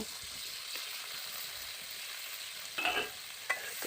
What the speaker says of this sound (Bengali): আলুটাকেও সেম করে ভেজে নিচ্ছি